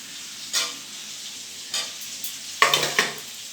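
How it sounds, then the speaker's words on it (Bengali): Boiled potatoes in hot ghee for a vegetarian biryani give a faint, low sizzle, broken by a few short scraping stirs of a spoon in the pan. "ঘিটা দিয়ে সেদ্ধ করে রেখেছিলাম আলুগুলো, এবার আলুগুলো দিয়ে দিলাম এর মধ্যে।"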